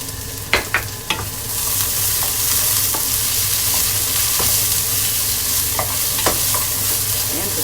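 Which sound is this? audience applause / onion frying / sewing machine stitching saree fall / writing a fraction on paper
onion frying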